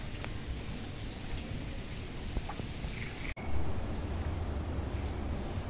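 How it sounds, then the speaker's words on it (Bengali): Steady rain patters without a break, with a low rumble of thunder rolling in far off near the middle. No voices are heard. "গুড় করে আকাশ ডাকছে, আর ঝিঝি ঝিঝি করে বৃষ্টি হয়েই চলেছে"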